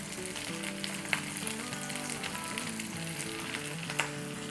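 Garlic and ginger paste frying with onions in a pan makes a steady, close sizzle, broken by a couple of sharp stirring clicks, with no talking.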